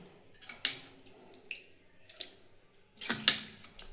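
Soaked dalia is scooped up along with its water, producing a few wet splashes and drips followed by a louder, sloshing pour near the end, close and clear with no talking.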